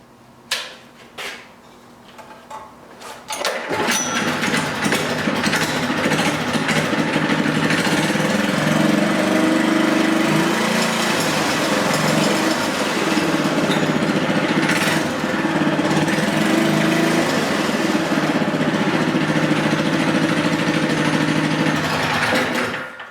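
A rebuilt monocar engine fires up after a few faint knocks and settles into a loud, steady, buzzing run that continues alone without a break.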